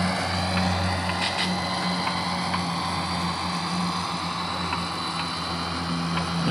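A steady, droning engine hum with a low throb, like a propeller aircraft passing overhead, constant and fairly loud throughout.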